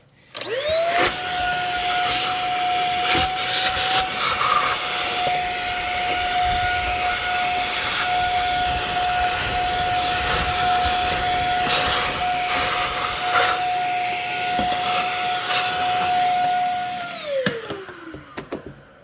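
A vacuum cleaner whirs at a steady high pitch for most of the stretch while cleaning out a clothes dryer's lint area, with occasional bumps and knocks, then spins down at the end.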